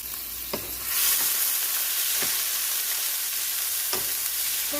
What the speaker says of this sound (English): stir them around, stir fry